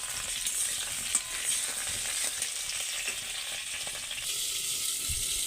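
Pointed gourd frying in oil in a covered pan, a steady close sizzle with small crackling pops throughout and a brief change in tone near the end, no voices.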